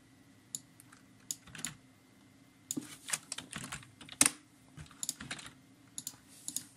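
Rapid clicking of computer keyboard keys while setting up a MuOnline Season 3 game server, irregular bursts of close, crisp keystrokes with brief pauses, no talking.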